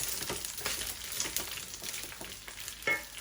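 Rice frying in a hot pan on a stovetop, a steady crackling sizzle with brief stirring scrapes and one louder pop of hiss near the end, close and continuous with no talking.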